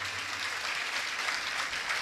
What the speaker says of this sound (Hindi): ताली बजा के पहले आप इनका स्वागत करिए